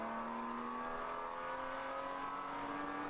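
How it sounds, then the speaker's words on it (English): Race car tires squeal under braking during an endurance race at Watkins Glen, a steady high-pitched whine with strong tonal harmonics held continuously against the background engine roar. "You can hear those tires protesting as he's braking."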